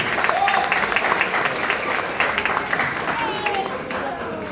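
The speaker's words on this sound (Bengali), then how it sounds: "তো যারা এত সুন্দর ডেমনস্ট্রেশন দিলেন তাদের সকলের জন্য একটা হাততালি দিন।" An audience applauds karate demonstrators at a formal event, sustained dense clapping from many hands, fairly loud and steady before easing slightly.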